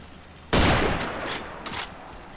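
Base defenses open fire on raiders in Fallout 4, a sudden loud burst of rapid gunfire that keeps up for a couple of seconds with a few sharper shots ringing through it.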